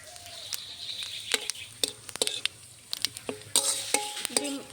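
Hot mustard oil sizzles softly with whole cumin and a bay leaf beneath a series of sharp clinks and taps of a utensil against a metal wok.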